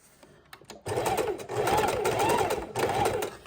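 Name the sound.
sewing machine stitching lace trim onto a junk journal cover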